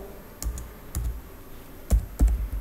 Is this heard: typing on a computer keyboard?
yes